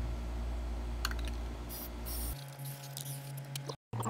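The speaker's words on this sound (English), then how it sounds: "we're going to spray the gasket, and let that set for a few minutes" A close hissing spray of gasket sealant runs for about two seconds, then stops, followed by quieter clicks and a steady low hum, during a clutch rebuild on a 1982 Yamaha XJ750 motorcycle.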